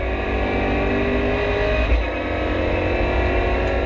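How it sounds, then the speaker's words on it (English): Lotus Exige race car in a Supercar Challenge race at Spa Francorchamps, a loud, close, continuous engine roar from passing race traffic under a dense wash of noise, without a clear single pass-by. "down the inside comes the Lotus Exige"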